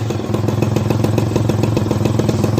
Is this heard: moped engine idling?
yes